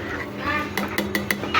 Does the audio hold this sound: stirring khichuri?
yes